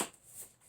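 An oracle card deck is shuffled by hand, giving quiet, close, papery riffling in two brief soft swells.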